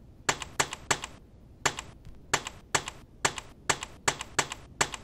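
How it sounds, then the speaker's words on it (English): A computer keyboard during a typing test gives off bursts of clicky keystrokes in quick runs, each group of taps separated by short pauses. The typing is close and crisp, with no talking. "I'm pretty good at this typing thing"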